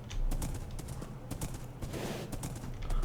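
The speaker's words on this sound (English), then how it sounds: "riding a horse in water is not an ideal thing to do" Hoofbeats of a horse being ridden through water in the Minecraft modpack Sevtech Ages, a steady rapid clip-clop rhythm running throughout, close and moderately loud over splashy ambient noise.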